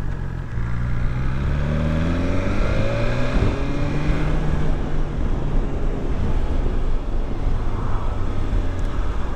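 A 2020 BMW S1000XR sport-touring motorcycle engine accelerating on the road, a steady loud revving drone with rising pitch sweeps through gear changes, heavy wind buffeting throughout.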